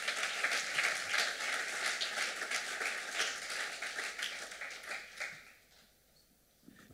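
A church congregation applauds and cheers in acclaim of Jesus, a dense, steady wash of clapping and voices that holds for several seconds and then fades out toward the end.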